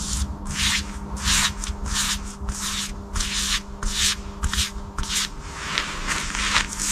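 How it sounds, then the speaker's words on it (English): A paintbrush is worked along the welded steel seams of a restored Emily the Tank Engine. Repeated rough scrubbing strokes come in an uneven rhythm, close and fairly loud over a steady low hum, with no voices. "The brush moves carefully along welded seams."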